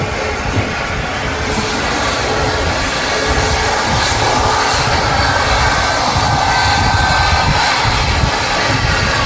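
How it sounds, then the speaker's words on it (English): Airliner jet engines roaring at full takeoff power from the runway at Manchester Airport, a loud, steady, broadband rumble lasting the entire stretch. "So these next two takeoffs are going to be loud."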